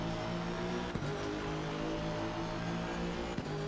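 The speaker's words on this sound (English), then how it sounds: "can you hear enough of the engine, by the way?" A GT3 race car engine at Kyalami in the ACC racing game drones steadily at a sustained pitch, with two brief gear-shift dips, held at a moderate, even level.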